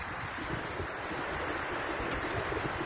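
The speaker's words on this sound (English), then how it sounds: "So the waves are sort of crashing a little bit here." Ocean waves wash gently onto the shore on a bright day, a continuous broad roar of surf mixed with gusty wind buffeting the microphone, with no voices.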